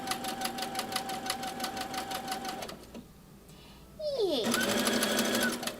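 A sewing machine stitches a dress in a steady rapid whir, briefly pauses, then runs again at a higher, faster pitch, close by, with a short spoken word in the gap.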